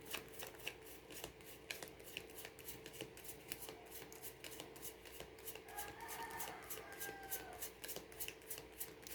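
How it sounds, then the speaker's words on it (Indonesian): Tarot cards being shuffled by hand, a rapid run of crisp, close riffling clicks repeating steadily for about nine seconds, with faint background noise and no speech. "saya kocok kartunya"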